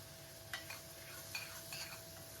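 Tomatoes and onions seasoned with turmeric, chili powder and salt are stirred in a frying pan, giving a few faint, soft scraping strokes over a quiet low sizzle.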